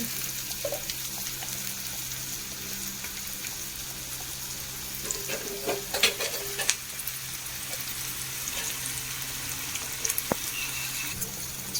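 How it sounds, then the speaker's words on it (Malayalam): Onions and curry leaves frying in hot oil for sambar, a steady soft sizzle with occasional stirring scrapes and clinks, heard close with no talking. "ഉള്ളിയും വേപ്പിനും ഇട്ട് കൊടുക്കും അപ്പം അതൊന്ന് മൂത്ത് വെക്കേ"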